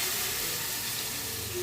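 Jackfruit curry sizzles and hisses steadily in a pan right after water is added, a dense close crackling bubble with no talking.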